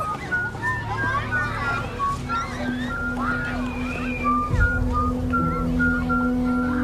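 Wavering, high whistling tones drift and slide eerily over a low hum and background chatter, with a brief thud midway.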